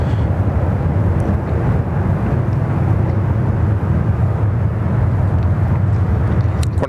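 A Qantas Airbus A330 rolls down runway 34 left at Sydney Airport for takeoff, a loud, continuous broadband jet roar that holds steady throughout, heard from a distance without voices.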